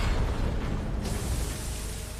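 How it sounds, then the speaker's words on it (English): A deep, muffled underwater blast rumbles heavily, a booming depth charge explosion around a World War II submarine that rolls on and slowly fades. "but the explosions continue"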